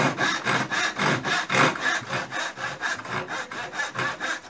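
A hand saw cuts wood for an end lap joint in steady, rhythmic back-and-forth strokes, each rasping pass close and clear, about a dozen strokes without pause and no talking.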